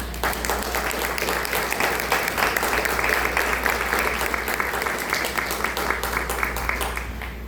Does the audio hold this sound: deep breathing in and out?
no